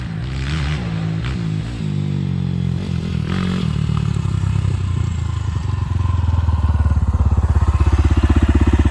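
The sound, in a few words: 2023 SSR SR250S motorcycle riding past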